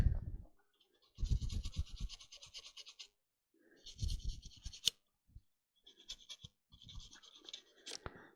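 A small toothbrush scrubs a USB hard-drive docking station in several close, scratchy bursts of brushing separated by short pauses, with no voices.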